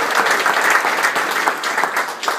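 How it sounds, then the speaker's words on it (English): A room of guests at a brunch gathering breaks into applause, steady, full clapping from many hands holding at a fairly loud, even level throughout. "I'd like to give all of you a round of applause."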